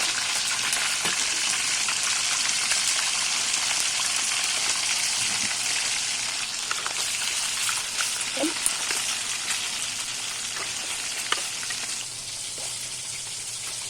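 Marinated chicken frying in a pan for pepper chicken gravy, a continuous bright sizzle with scattered pops and crackles, close and steady throughout with no talk over it.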